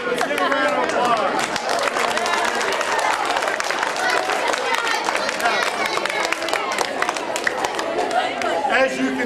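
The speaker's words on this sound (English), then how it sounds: "Let's give a round of applause" An audience at a science demonstration bursts into sustained applause, dense clapping with some crowd chatter mixed in, lasting the whole stretch at fairly close range.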